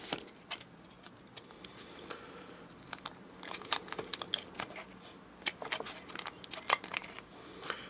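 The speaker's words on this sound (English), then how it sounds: "So this is just normal masking tape." Normal masking tape is handled and torn close up, with soft crinkling, light rustling and brief sharp tearing snaps scattered irregularly at low volume, with no talking.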